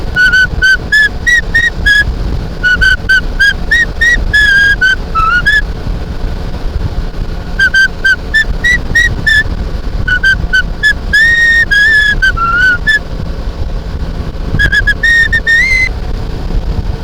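A person whistles a bright melody in short repeated phrases with pauses between, close to the mic, over steady wind noise.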